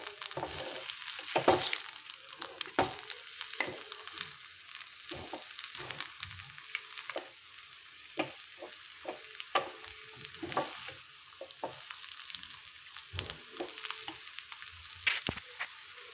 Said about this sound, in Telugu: ఈ సాల్ట్ మొత్తాన్ని కలిసేలాగా కలిపేసుకుందాం